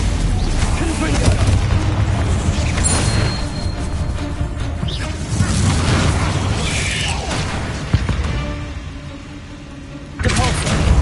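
Blasting spells, Confringo among them, go off in rapid succession in the video game Hogwarts Legacy as loud, dense booms and bursts, with a voice calling out spell names over the din.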